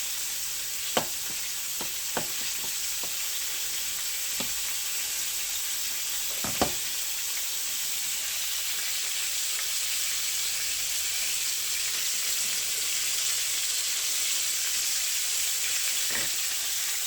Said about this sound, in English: now I got this bad boy in here frying up.